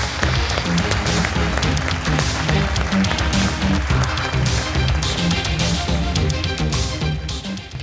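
A studio audience on a Zee TV pitch show applauds warmly to welcome contestant Kapil Bhatia, with steady, dense clapping running for the whole stretch over a low musical bed.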